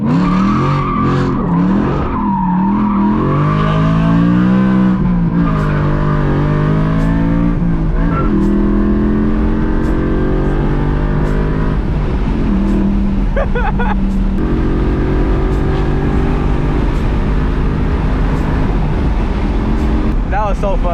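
A BMW E92 M3 with a loud exhaust revs hard and accelerates through the gears on a canyon run, its engine note climbing and dropping with each shift. The exhaust stays loud and close throughout, with a brief tire-squeal edge as the car slides.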